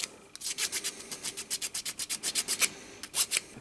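A hand file rasps a burr off a metal maker's plate in quick, even back-and-forth strokes, about twenty close scrapes with a brief pause before the last few.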